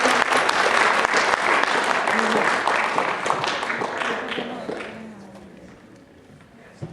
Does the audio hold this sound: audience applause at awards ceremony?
yes